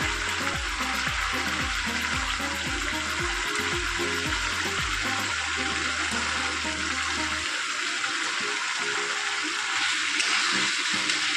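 Ground coriander, cumin, turmeric and chili powder frying in hot oil for a Bengali fish-head dish, a loud steady sizzle that stays broadband throughout, with low background music fading out partway.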